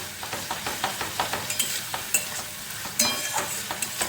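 Spices and yogurt fry in a pan for a Bengali katla kaliya fish curry, with soft sizzling under steady, rhythmic stirring scrapes, close and fairly quiet.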